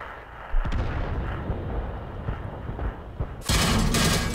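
Tank cannon shots in World of Tanks, with a T-II I-Go Japanese medium tank in play: a sharp blast near 0.6 s, lighter thuds through the middle, then a loud broadband burst from 3.5 s that rumbles on to the end.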